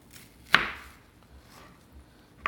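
A knife cutting onions on a board, two sharp chops about two seconds apart, close and crisp against quiet background.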